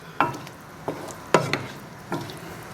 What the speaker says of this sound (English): I've just chucked in whole mushrooms, stir that around, let that cook